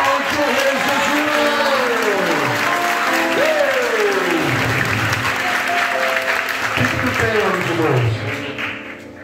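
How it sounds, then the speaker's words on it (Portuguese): A church congregation applauds loudly during a worship service, sustained clapping mixed with cheering and raised voices, fading out near the end. "Aplausos, rei Jesus!"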